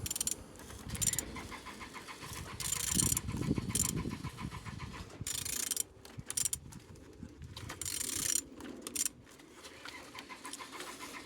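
An aircraft engine turned slowly by hand during an inspection gives off a close, steady run of ratcheting mechanical clicks and gear-like rattles, continuing throughout without speech.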